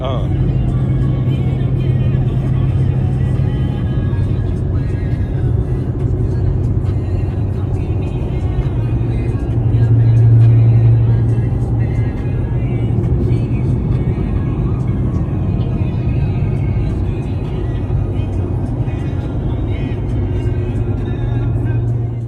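A supercharged Chevrolet Monte Carlo SS engine runs with a steady, loud, low rumble that holds throughout and swells briefly midway, while people talk over it.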